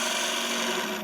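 A woodturning gouge cuts across the end grain of a natural-edge vase on a lathe, giving a brief, steady, close rasping scrape that fades at the end.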